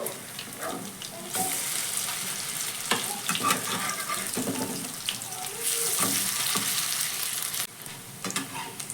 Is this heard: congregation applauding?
no